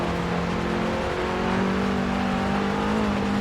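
A 1981 VW Scirocco S engine pulls steadily while driving, its tone climbing gradually as it accelerates, with a constant loud cabin drone of engine and road noise.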